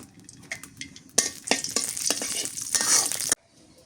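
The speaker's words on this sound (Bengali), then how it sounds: "এই কড়াইয়ে তেল দিয়ে দিই, একটা তেজপাতা আর আস্ত মশলা দিয়ে দিই," A bay leaf and whole spices hit hot oil in a village kitchen wok, giving a sudden burst of crackling sizzle with stirring scrapes that holds for about two seconds, then cuts off abruptly into near silence.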